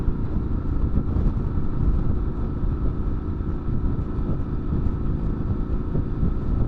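A Triumph Scrambler 900 motorcycle cruising along with smooth power, a steady low engine rumble mixed with rushing wind noise, constant and close throughout.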